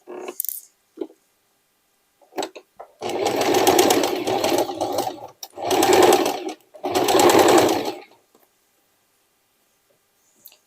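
Sewing machine running straight stitches through old denim jeans for a hooded jacket, three sustained bursts of a few seconds each, close and fairly loud, with brief clicks and short pauses between runs.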